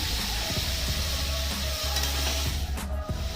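Drumstick pieces being fried with dal in a pan: a steady low sizzle runs throughout, broken by soft spoon scrapes and stirring knocks at irregular intervals.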